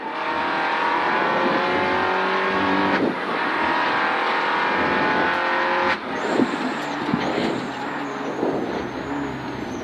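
A Peugeot 207 RC rally car races hard on a special stage of the Rallye du Boulonnais, its engine revving loud and close, with sharp gear changes breaking the drone.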